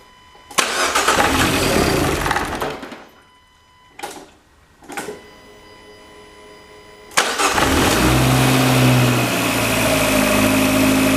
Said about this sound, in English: I'm going to just give the engine a crank here. And we'll see if we can get a start.